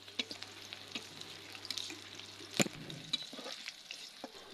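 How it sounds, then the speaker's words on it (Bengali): Onion fries in a pan with a quiet, close sizzle, broken by small pops and a sharp clack of a utensil partway through. "পেঁয়াজটা একটু ভেজে নেব কিছুক্ষণ।"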